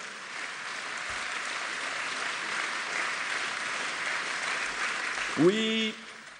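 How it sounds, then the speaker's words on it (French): Steady, broad applause from a large crowd at a political rally in Paris fills the space, continuing evenly before a voice breaks in near the end. "on peut les applaudir bien fort"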